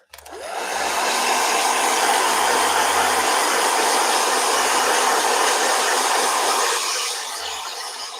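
A hair dryer roars steadily at close range, a loud continuous blowing whoosh that runs for several seconds before easing off.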